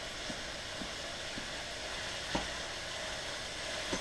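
Ground turkey crackles quietly in hot oil, a soft, even sizzle with a few light taps and scrapes as the meat is broken apart.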